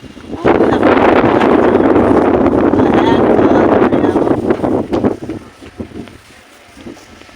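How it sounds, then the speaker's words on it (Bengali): Strong wind blowing across an open rooftop on a fine day, a loud steady rushing gust that buffets the microphone, then easing to a lighter breeze with faint background noise. "কি হাওয়া ছেড়েছে আজকে"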